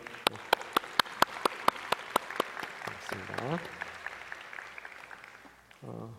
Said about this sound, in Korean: 잠깐 박수로 맞을까요?